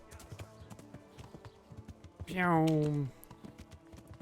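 Horse hooves clip-clop in the video game Kingdom Come Deliverance, a quiet run of light, fairly even steps, briefly broken by a short tonal cry as someone talks over it.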